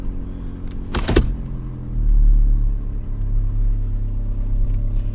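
A 2012 GMC Terrain engine, just repaired after a no-start fault, idles with a steady low rumble, close by. A sharp mechanical clatter comes early, then the idle deepens and holds with no talk over it.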